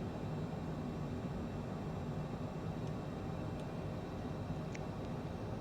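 Steady, even engine rumble of a Citation CJ4 business jet in flight in Microsoft Flight Simulator 2020, a constant broadband drone throughout with no voices.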